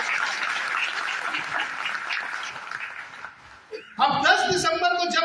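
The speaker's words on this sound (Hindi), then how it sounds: "जोरदार ताली होनी चाहिए हमारे इस मोदी को" An audience at a talk in Ranchi bursts into dense, sustained clapping for several seconds, which fades out before a voice takes over.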